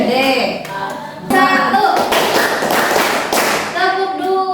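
A class claps in unison, with sharp group claps in short rhythmic sets. A voice speaks between the sets.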